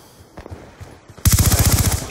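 Silenced Vector SMG fire from Black Ops 2 in a Kill Confirmed match, heard as a rapid, loud burst of muffled automatic shots in the second half after quieter game ambience and scattered faint sounds.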